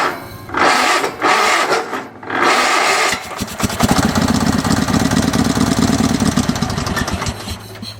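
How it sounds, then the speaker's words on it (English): A Sears SS/16 tractor engine is cold-started after sitting for years, with a few bursts of starter cranking before it catches and settles into a loud, steady, rapid running chatter that continues to the end. "That's the first time this engine's run in, I think, 3 years."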